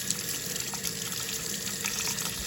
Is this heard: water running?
yes